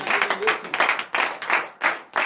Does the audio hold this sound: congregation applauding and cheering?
yes